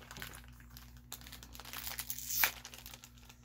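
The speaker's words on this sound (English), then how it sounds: "So I will open up the box and show off the dice." Close-up crinkling and rustling of packaging as a Dungeons & Dragons dice set box is opened, with light clicks and one sharper tearing crunch near the end.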